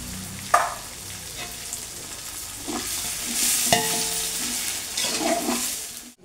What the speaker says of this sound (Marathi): कोथिंबीर भाजून घ्यायची.